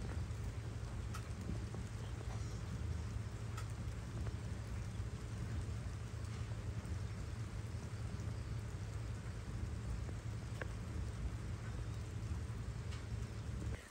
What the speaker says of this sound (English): We have had so much rain that all my weeding has been pointless, but we need this rain.